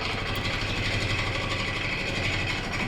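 Wood lathe spinning a hickory log at 600 RPM, a steady close motor hum with a constant even drone throughout.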